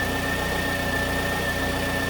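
A 2009 Pontiac Vibe engine idles steadily while its alternator charges a low battery, a constant, even mechanical hum heard up close.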